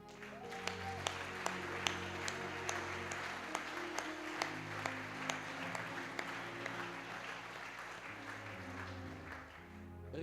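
A church congregation claps together in a steady rhythmic beat. The sound is faint and distant over a low background hum and holds for the whole stretch.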